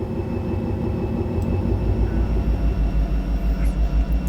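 A simulated freight train with DPU locomotives pushes uphill in a video game, giving a steady, loud diesel drone with a low rhythmic throb and no talking.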